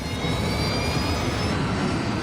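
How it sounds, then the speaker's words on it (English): Airliner jet engines mounted on the wings spool up as power is brought up, producing a loud, steady, broadband roar with a faint high whine running throughout. "The crew brings up power to the engines on the wings."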